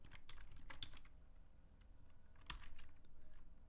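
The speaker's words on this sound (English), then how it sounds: "I'm typing in Chinese and Pinyin here all at the same time." Quiet, steady computer keyboard typing of Chinese and Pinyin text, with rapid soft key clicks and a couple of sharper taps, close and alone without talk.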